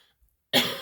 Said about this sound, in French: Excusez-moi, je n'arrête pas de tousser.